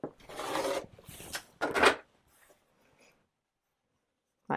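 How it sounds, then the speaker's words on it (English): Rotary or fabric cutter slicing corner to corner through stitched half square triangle quilt blocks, heard as a few close, rasping strokes in the first two seconds, followed by near silence. "now I'm going to cut along the centre line, corner to corner, to separate that out"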